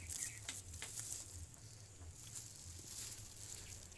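Papad fries in a pan of shallow oil. A faint, steady sizzle and patter continues throughout, close by but low in volume.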